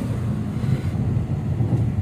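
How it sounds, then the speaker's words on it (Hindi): Loud rushing water at Hathnikund barrage on the Yamuna, a dense, continuous low roar close by with no pauses. "भाई पानी की बहुत जबरदस्त आवाज है यहाँ"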